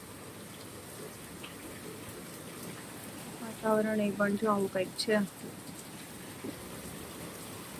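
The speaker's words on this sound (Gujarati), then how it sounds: "અત્યારે થોડો થોડો વરસાદ છે ચાલુ થયો છે." Light rain from the season's first shower patters in a steady soft hiss under a dark, cloudy sky, while a person speaks briefly over it.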